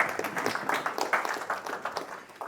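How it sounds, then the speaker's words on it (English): An audience applauds in a lecture hall, a burst of scattered hand claps rising and thinning over a few seconds, close and fairly loud. "Yeah, you can clap."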